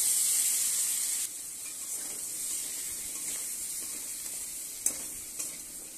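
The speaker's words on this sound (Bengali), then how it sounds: "ভালো করে ভেজে নেব।" Potatoes fry in a pan with tomato, green chilli, turmeric and Kashmiri chilli powder, giving a steady close sizzle and hiss that eases slightly after a second, with a couple of sharp stirring knocks near the end.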